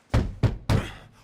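Three heavy knocks strike a wooden door in Assassin's Creed Odyssey, close and booming, spaced unevenly with a short ringing decay after the last.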